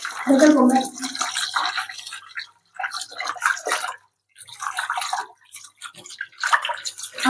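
Raw chicken pieces being washed by hand in water after a yogurt rinse, with splashing and sloshing in bursts and short pauses, close and fairly loud; a few faint voice-like sounds mix in.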